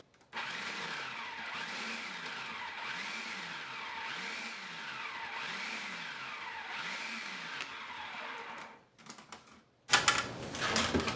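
Food processor pulsing cold butter into flour for pastry dough, a run of about six regular one-second pulses with rhythmic rising-and-falling motor whirs, close and loud, then the machine stops and a brief louder burst follows.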